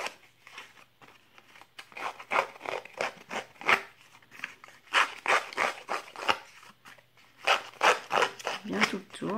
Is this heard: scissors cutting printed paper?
yes